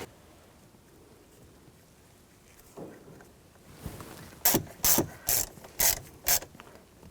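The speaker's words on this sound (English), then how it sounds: "we'll put the screws in" A ratchet drives in screws while an ignition starter switch is installed on a 2014-2018 GMC Sierra 1500: five crisp bursts of rapid clicking, close and regular, after a quiet stretch with faint handling noise.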